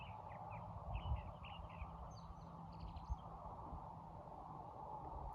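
Faint, distant birdsong of short chirps and trills rises over a steady low hum, with the calls clustered in the first few seconds.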